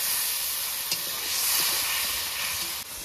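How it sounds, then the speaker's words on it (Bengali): Water splashed into spice paste frying in a pan for a Bengali rohu fish and poppy seed curry gives a steady, loud hiss and sizzle that fills the whole moment, with a slight swell midway and a brief dip near the end. "এবার হালকা একটু জল দিয়ে কষিয়ে নেব"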